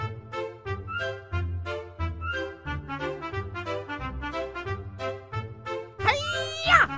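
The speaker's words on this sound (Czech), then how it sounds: "Kočka." A cat gives a short rising meow near the very end, rising over a steady background of tuneful music that runs throughout.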